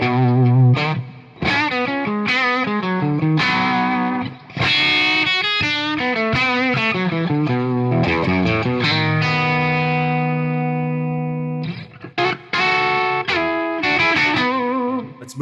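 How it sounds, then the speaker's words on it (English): A 1965 Gibson 335 electric guitar on its bridge pickup, played through a Divided by 13 amp and a 4x12 cabinet with light reverb and no pedals, rings out loud chords and single-note lines with sustained notes. "here's a basic tone through my divided by 13, through my 412, no pedals, and just a little bit of reverb"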